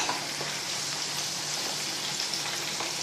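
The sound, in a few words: masala frying in a pan for stuffed tindora curry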